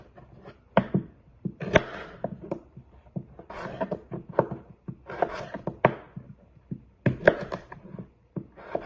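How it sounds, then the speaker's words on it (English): A knife cuts small potatoes into quarters on a board, giving a series of sharp, uneven chops and thunks at close range with short pauses between them. "I'm just going to quarter these up. Just split them in half, and half again"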